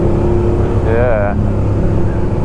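A Suzuki SV650 motorcycle engine is revved hard toward its rev limit on a mountain road ride. The loud, steady engine drone rises briefly into a sharp climbing whine before settling back.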